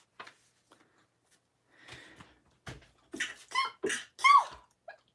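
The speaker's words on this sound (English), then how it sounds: "I sneezed." A close, sudden sneeze burst after some quiet breathing and light rustling.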